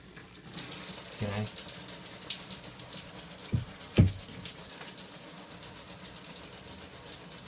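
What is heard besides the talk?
water running from a tap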